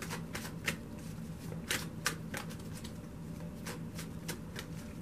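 Angel romance oracle cards are shuffled and drawn by hand, giving soft, irregular clicks and riffling flicks at close range over a faint steady hum.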